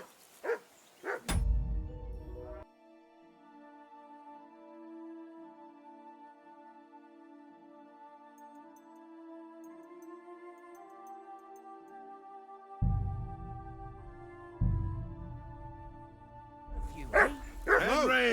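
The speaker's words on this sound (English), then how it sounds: "Whistle at that mutt of yours to stop barking!" A dog in the video game Kingdom Come: Deliverance II gives a sharp bark early on, then a few more loud barks near the end, with long sustained musical tones in between.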